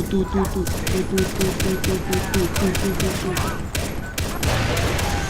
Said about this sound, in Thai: ไม่เคยเห็นปืนกลใช่ไหม เดี๋ยวทำให้ดูหน่อย